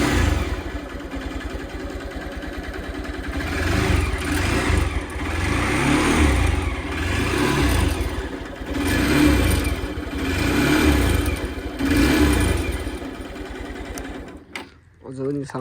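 A faulty motorcycle engine runs with a rough, uneven note on a solo ride toward Upper Mustang. It drones steadily and loudly, swelling and easing in waves for about fourteen seconds before cutting out abruptly.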